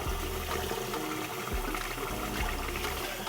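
Rice being washed in water to rinse off the starch, with sloshing, swirling liquid noises and rhythmic pulses as the grains are agitated, close and continuous with no talking.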